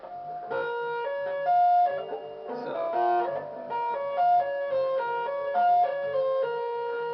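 A clean electric guitar plays a quick, repeating two-hand tapped lick from a solo, bright ringing notes, smooth and legato, looping several times without any talk.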